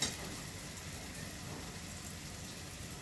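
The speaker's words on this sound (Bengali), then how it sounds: "কুমড়োগুলো এইভাবে ভেজে নিতে হবে।" Pumpkin pieces fry in a pan with a soft, steady sizzle that runs evenly throughout, faint and close, with no talk over it.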